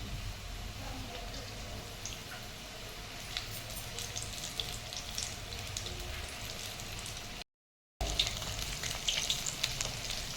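Corn batter fritters (bhaji) frying in hot oil for a monsoon snack, a steady close sizzle and crackle that runs throughout with a short cut near the end, no talking.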